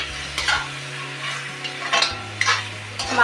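Mutton curry meat is stirred in a pan over a medium flame, giving a few scraping spoon strokes over a gentle sizzle with a low steady hum beneath.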